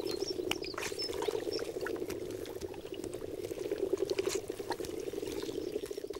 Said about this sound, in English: Hundreds of frogs cluster together.